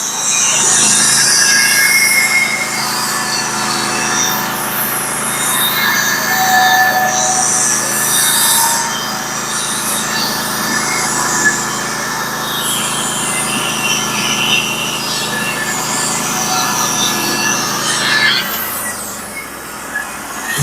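A Norwood HD36v2 sawmill cuts through a 12-foot 4x4 timber with a steady, loud, continuous whine and scraping rasp that holds evenly for about eighteen seconds before the note shifts and winds down.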